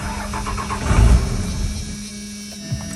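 A 1997 Dodge Ram 2500 with the 5.9L Cummins diesel engine cranks up close with a rough, loud turnover that swells and then drops back to a low running rumble.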